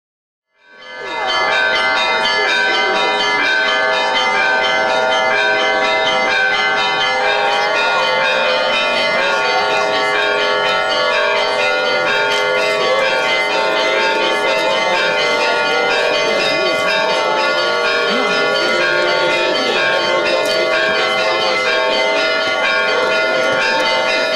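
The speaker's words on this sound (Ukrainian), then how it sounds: "найвеличніший і найрадісніший момент свята Йордану урочисто сповіщає церковний передзвін" Church bells peal continuously and loudly for an Epiphany (Jordan) water-blessing celebration in the Krasnohrad area, Ukraine, layered strikes ringing together in a rich, sustained chime that begins abruptly and carries on without pause.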